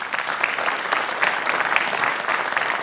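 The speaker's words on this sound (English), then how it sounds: "let's give them all one big round of applause" Audience applause for scholar award winners at a school board awards night, sustained dense clapping from a sizeable crowd, steady and fairly loud.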